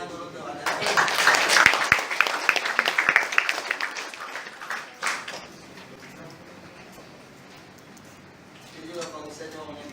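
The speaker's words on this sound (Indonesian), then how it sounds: "Kita tepuk tangan dulu tuh ada." Lecture audience at a civil engineering public talk on river restoration breaking into dense, close applause for several seconds that fades into murmuring, with talk resuming afterward.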